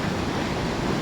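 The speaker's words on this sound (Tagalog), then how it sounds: "Dagat lagi ang lisod ani ang dagat og mo taas ang bawod kay kusog kay hangin." Strong typhoon wind with high sea waves, a dense, steady roar of wind and surf filling the short stretch close to the microphone.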